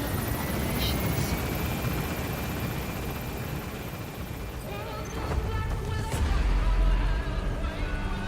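Helicopter rotor thrum and turbine whine in the Metal Gear Solid V video game as the aircraft gains altitude and departs a hot zone, steady and loud throughout with heavier low rumble and scattered bursts near the end.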